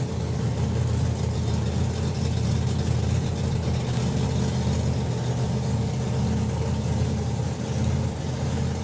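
A supercharged drag racing car with a 526-cubic-inch Hemi idles at a drag racing event, a loud, steady low rumble that holds evenly throughout.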